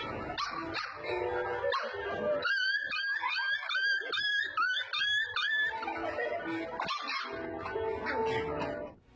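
A young dog barks repeatedly in quick, high-pitched yips, mixed with whining and whimpering, close and fairly loud.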